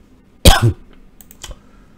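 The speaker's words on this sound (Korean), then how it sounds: "이 목이 기침이 자꾸 나와가지고" A single sharp, close cough from a man with a cold, followed by a few faint keyboard clicks.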